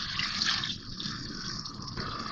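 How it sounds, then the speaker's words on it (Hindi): A cup of water poured into a cooking pot of freshly mixed tomatoes and onions, a close, steady splashing pour lasting a couple of seconds with no voices. "1 कप पानी डाल रही हूँ इसमें भर के मैं।"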